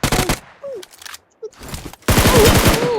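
Gunfire from a shooting video game: short rapid bursts, a few isolated shots in a quiet gap, then a loud sustained automatic burst through the final second, close and punchy.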